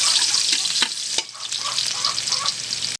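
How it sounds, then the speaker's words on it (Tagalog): Garlic sizzles loudly in a hot clay pot while pancit is being made, a bright continuous frying hiss broken by sharp utensil taps and a brief dip midway. "Mainit na ang palayok. So, next na natin ang garlic bawang."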